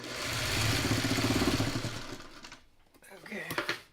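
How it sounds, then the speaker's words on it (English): Sewing machine stitching quilt block pieces, a close whirring run of stitching for about two seconds that slows and stops, followed by faint handling noises. "now we sew it the other way"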